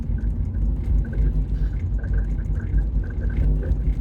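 An Alfa Romeo car on a morning rush-hour test drive, heard from inside as a steady low engine and road rumble with faint ticking, continuous and fairly loud, with no talking.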